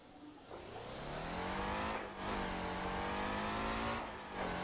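A modified Hummer truck in the driving game Motor Town revs hard, its engine climbing and holding in a loud, steady drone with two brief dips as gears shift, and no voices over it.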